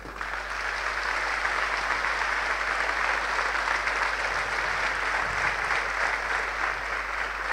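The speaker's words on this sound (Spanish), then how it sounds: "Dale gracias a Dios con un fuerte aplauso" A church congregation claps loudly and steadily throughout, a dense, sustained wash of applause filling the room with no pauses.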